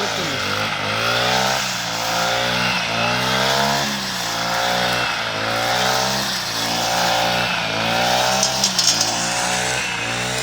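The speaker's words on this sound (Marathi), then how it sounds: "गाडी जोरात चालली" Engine of a vehicle driving fast in a village, a close steady drone whose pitch swells and dips in a regular rhythm throughout.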